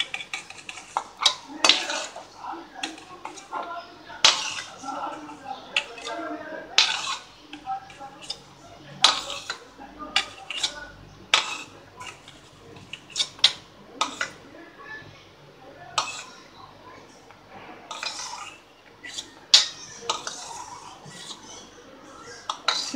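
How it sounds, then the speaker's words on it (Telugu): Cashews frying in oil in a pan for a carrot kaju fry, stirred with a utensil that clinks and scrapes against the pan in irregular bursts, close by, with a faint sizzle between strokes and someone talking over it. "ఇలా మనకి గోల్డ్ రంగు వచ్చే వరకు ఇలా వేయించుకోవాలండి."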